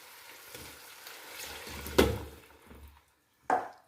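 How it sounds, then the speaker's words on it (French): Cider vinegar goes into a pan of caramelized onion, giving a soft frying hiss with a sharp sizzling burst and a second brief splash of sizzle, heard up close. "Maintenant, je rajoute le vinaigre de cidre."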